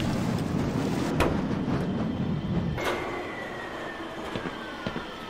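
Train in the video game Black Mesa, a loud, steady rolling rumble with clattering and a thin metallic squeal. The rumble eases partway through, leaving lighter rattles and squeaks.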